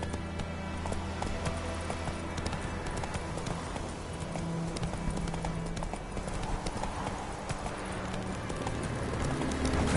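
Steady, fast hoofbeats from Roach galloping in The Witcher game, close and continuous for the whole stretch, with faint ambient bird calls and game background underneath.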